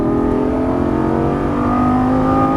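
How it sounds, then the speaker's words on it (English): A Lamborghini Gallardo LP550-2 on a track pulls hard under throttle in a straight line, its engine note loud, close and sustained as it accelerates. "back to the throttle in a straight line, all the way to that turn point there"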